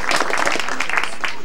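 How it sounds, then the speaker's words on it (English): An audience at a classic car event applauds, a brief dense burst of clapping heard close and fairly loud for about a second and a half. "we'll still give a round of applause to that wonderful Buick that they have just had restored in their backyard"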